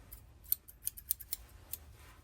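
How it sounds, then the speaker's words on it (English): Small nickel-plated German scissors snip and click several times in quick, uneven succession, crisp and close against a quiet background. "A little pair of nickel-plated scissors."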